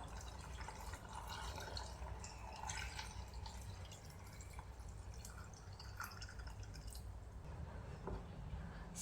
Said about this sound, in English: and filling it with my filtered water.